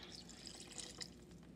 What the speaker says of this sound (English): Half a cup of water.